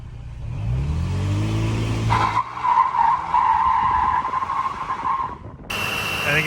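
A car revs and accelerates with rising engine harmonics, then its tires skid and squeal in a long, loud, sustained screech, ending with a sharp bright burst of noise.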